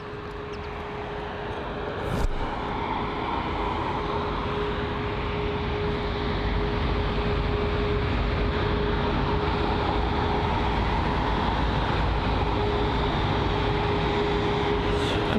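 An aircraft at London Heathrow airport produces a broad, steady jet roar that holds evenly throughout, with a thin constant whine running through it and a brief click early on.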